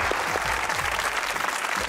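Studio audience at a Pakistani TV comedy talk show bursts into brief, dense, steady clapping, close and lively throughout.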